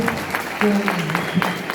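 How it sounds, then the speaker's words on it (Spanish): Audience at a school event clapping for participating students, a moderate spread of hand claps with a few sharper individual claps, mixed with a faint tonal voice or sound in the room. "Un fuerte aplauso para todos los estudiantes que han participado en este evento"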